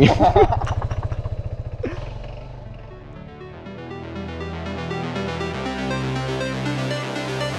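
A motorcycle engine revs with a throaty, pulsing roar up close, then settles into a steady, rising drone.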